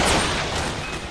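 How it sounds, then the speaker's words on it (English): A missile launcher firing in a video game, one loud, rushing blast with a whooshing tail that fades over about a second. "I love my missile launching technique."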